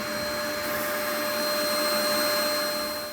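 Shop vacuum cleaner pulling dust out of a sand blast cabinet, running as a steady, loud, unbroken whine and roar with no talk over it.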